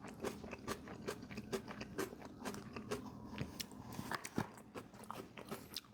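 Close, crunchy chewing of coleslaw right against the microphone, a steady run of quiet moist bites and crunches in quick rhythm with no talking.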